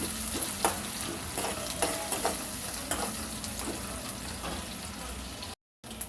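Dried prawns fry in a pan with a steady close sizzle, broken by repeated scraping stirs of a spoon at an uneven rhythm, continuous and moderately loud with no talking.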